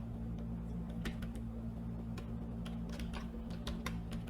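Quick bursts of keystrokes as a domain name is typed on a computer keyboard, clicks bunched in irregular runs over a steady low electrical hum, fairly faint and with no speech.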